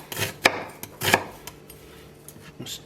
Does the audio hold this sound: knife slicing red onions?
yes